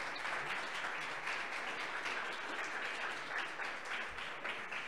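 An audience at a Women in Data Science talk gives a dense, steady round of applause that holds evenly for several seconds, with no pauses or voices over it.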